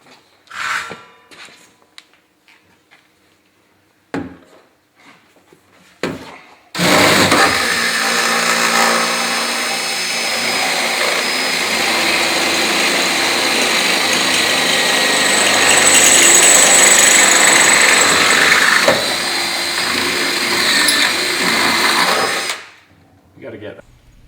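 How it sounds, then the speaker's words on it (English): A power drill reaming bolt holes in a sill box while a Rocky Road Superslider is fitted to a Land Rover Discovery 2, a loud, steady whine lasting about fifteen seconds after a few short, scattered taps. "we did end up reaming a few of the holes out"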